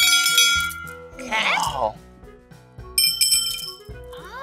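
Two clay bells are rung in turn, a small one with a high, bright ringing tone and a bigger one with a lower tone, each struck a few times with clear decaying rings while people talk briefly.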